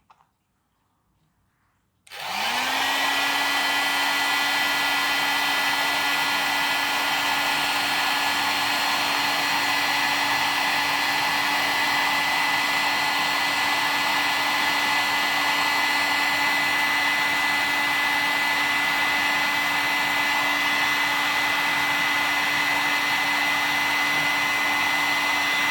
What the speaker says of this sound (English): I've never actually used this heater before